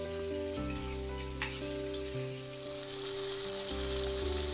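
Shallots, chilies, tomatoes and salt sizzle while being sautéed in a pan for a prawn mango gravy, a soft steady frying crackle heard fairly quietly under a low background hum, with no talking.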